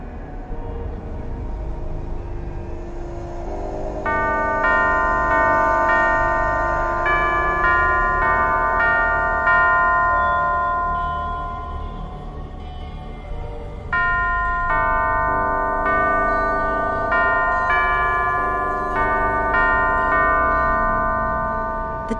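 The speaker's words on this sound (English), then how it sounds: "Only by playing the correct sequence of bells can it be opened." Bells in the Alice: Madness Returns video game played one after another in a sequence to open a sealed door, clear ringing tones with long sustained decays, loud and close, over a low ambient drone.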